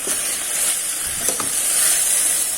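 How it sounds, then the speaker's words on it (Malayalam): Cooked raw banana thoran being stirred in a hot pan, a bright continuous sizzle with a few soft scraping strokes over a short stretch. "നമുക്കിതൊന്ന് ഇളക്കി കൊടുക്കാം."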